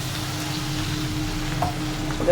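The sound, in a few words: ingredients poured into sizzling pan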